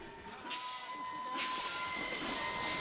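A freight train in the video game Sid Meier's Railroads rumbles steadily with a hissing rail roar and faint squealing tones, building gradually louder with no talk.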